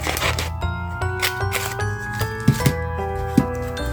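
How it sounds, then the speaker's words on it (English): A small circle punch cutting paper buttons for a junk journal, a series of crisp clacks and snaps, several close together, heard up close with faint handling rustle and no talking. "I'm just going to take a little circle punch. And I'm going to cut or punch 2 buttons."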